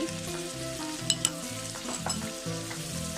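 Shrimp stir-fried with golden garlic, seasoning sauce, black pepper, oyster sauce and fresh milk, a soft steady sizzle broken by repeated rhythmic scraping strokes of a spatula against the pan.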